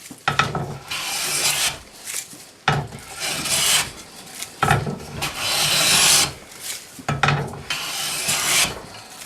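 A hand plane shaves wood for a coffee table in long rasping strokes, four loud, close passes separated by brief pauses.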